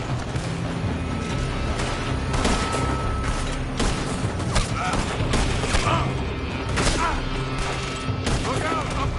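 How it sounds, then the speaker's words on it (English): Rapid gunfire in Red Dead Redemption 2 as enemies shoot from a building, overlapping shots and booms with mechanical clatter in a continuous firefight, loud and busy, with voices mixed in. "They're shooting from that building!"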